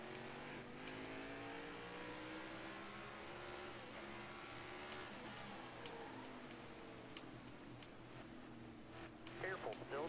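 Race car engines at Martinsville in NASCAR Heat 5, a continuous droning engine hum with shifting revs and a brief rising rev at the end, with a voice talking over it.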